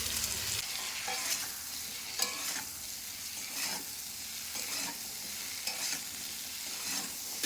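Chopped Malabar spinach frying with shrimp in a pan, a moderate close sizzle broken by repeated rhythmic scraping stirs, with no talk.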